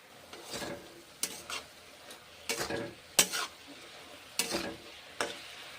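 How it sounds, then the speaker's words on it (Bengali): Cabbage, a winter vegetable, is stirred and fried in a pan: a soft background sizzle broken by about six distinct scraping bursts of the spatula, spaced irregularly and heard up close. "নেড়ে চেড়ে ভেজে ভেজে রান্না করছি"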